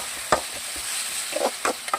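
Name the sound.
ginger, garlic and onion paste being stirred and fried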